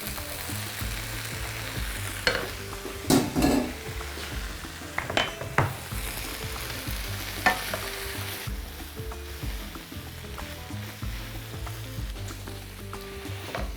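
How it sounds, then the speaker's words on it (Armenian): Meat sizzles as it fries in a pan for an Armenian sorrel and bean soup, with steady crackling frying and a few louder scrapes and clinks of a utensil stirring against the pan. "Միս անմիջապես լցնում ենք տապակի մեջ"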